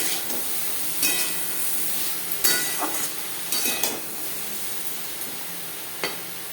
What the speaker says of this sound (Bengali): লবণ হলুদ দিয়ে চিচিঙ্গা ভেজে নেব।